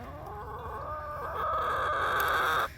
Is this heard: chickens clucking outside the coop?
yes